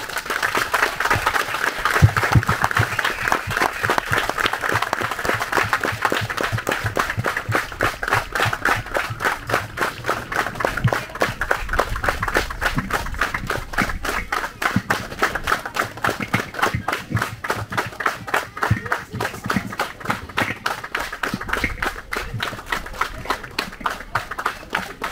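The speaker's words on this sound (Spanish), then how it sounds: "Pido un aplauso por él," An audience at a community event in Santa Cruz Palmillas, Tamaulipas, claps at length in memory of someone who has died, giving a dense, sustained round of applause that holds steady and then settles into a more rhythmic, unified clapping.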